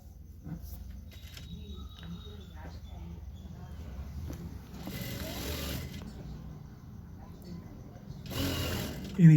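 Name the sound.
sewing machine stitching ladies' pant bottom piping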